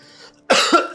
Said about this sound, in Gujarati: તને ખાંસી આવે છે ને?